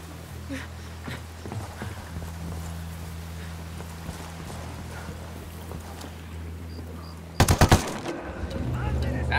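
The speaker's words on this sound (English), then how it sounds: "He's on alert. Opening fire." Gunfire in Ghost Recon Wildlands near a boat and a container: a dense, loud burst of shots breaks out late over a steady low engine drone, after a stretch of quieter engine noise with scattered faint pops.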